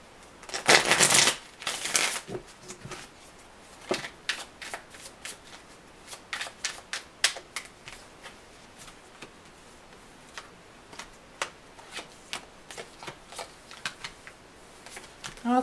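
Tarot cards are shuffled at close range in a long run of crisp riffles and soft ticking flicks, with a few louder bursts near the start.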